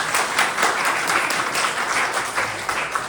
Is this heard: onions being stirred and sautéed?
no